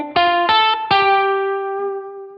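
On electric guitar, a lick with a melodic twist: three bright, crisply picked chordal stabs in quick succession, the last one left ringing and slowly fading, played alone.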